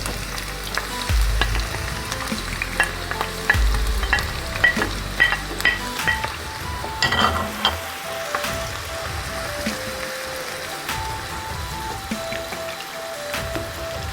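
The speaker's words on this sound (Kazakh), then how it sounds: "бірінші пиязымызды қызып тұрған майға саламыз." Onions hit hot oil and fry with a loud, crackling sizzle, stirred with clinks and scrapes of the utensil early on before the sizzle settles into a steadier hiss, with no talking.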